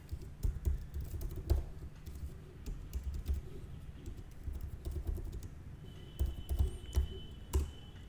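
Typing code on a computer keyboard, a steady run of close, soft key clicks and taps, with brief pauses and a few heavier keystrokes near the end, no speech.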